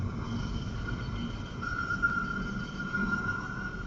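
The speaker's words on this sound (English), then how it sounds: "This is the sound of a piece of kit called the automatic middle splitter." An automatic middle splitter machine splitting pig carcasses in a meat processing plant gives off a steady, low mechanical drone with a faint high whine. It is a continuous industrial hum heard alone, with no talking.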